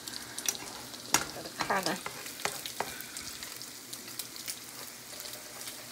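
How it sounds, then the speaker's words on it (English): An egg cooks in a pan on the stove beside chorizo, a quiet steady sizzle with scraping and stirring scuffs, a brief voice speaking over it. "Okay, here's our egg on the stove."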